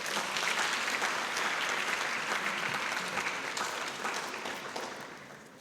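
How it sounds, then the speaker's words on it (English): A large audience applauds, a dense, sustained wash of clapping that holds steady and then begins to taper off toward the end. "let us give them another round of applause for these young girls."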